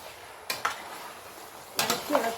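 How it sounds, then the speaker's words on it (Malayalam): A spoon stirring beef curry with curry leaves in a pan gives a few short scraping clinks, one pair early and a louder cluster near the end, over a faint steady background. "നല്ലോണം ഇളക്കി കൊടുക്കണം, അടി പിടിക്കാൻ പാടില്ല."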